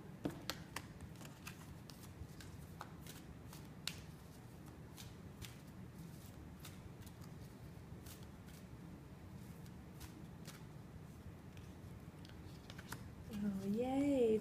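Oracle cards from a Four Agreements deck are shuffled by hand in a steady, close, papery riffle and flutter that continues almost the whole time, with a brief voice near the end.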